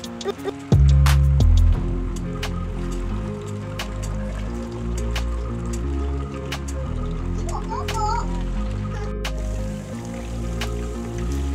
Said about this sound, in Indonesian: Step terakhir kita mau goreng ayamnya,